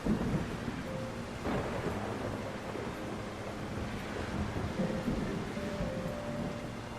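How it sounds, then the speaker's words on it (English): Thunderstorm in the video game Solarpunk: steady rain hiss with low rolling thunder rumbling throughout, fairly loud and continuous with no talk. "I hate flying in the storms."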